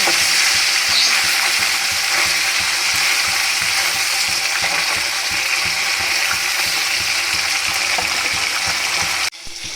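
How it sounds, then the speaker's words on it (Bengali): Fish frying in a pan gives a loud, steady, close sizzle that crackles without pause for nearly the whole stretch, then cuts off abruptly just before the end. "মাছ ভাজা হয়ে গেছে আলুগুলো ভেজে নেবো"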